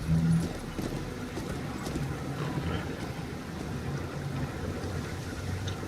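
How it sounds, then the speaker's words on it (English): Horse hooves clip-clop in a steady walking rhythm in GOT Kingsroad, moderately loud and close, over a soft outdoor ambience with no talk. "A horse apparently can't go through that"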